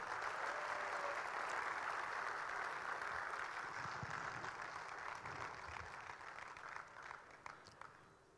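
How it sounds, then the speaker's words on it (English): An audience claps at a Revolt RV400 electric motorcycle launch event, dense and steady at first, then thinning and fading toward the end into scattered claps. "One last round of applause for the service unlimited."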